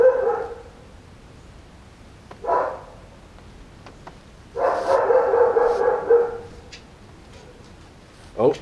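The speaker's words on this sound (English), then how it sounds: "I hear a dog in the background as well." A dog barks in short bursts at a distance, with a single yelp and then a longer run of several barks, set against a quiet background.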